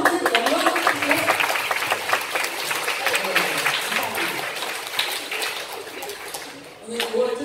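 A church congregation claps together during a worship service, a dense, steady wash of many hands that carries on for several seconds and softens slightly near the end.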